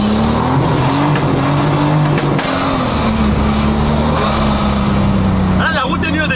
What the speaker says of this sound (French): T'es devant la caisse, t'entends toute l'aspiration de l'admission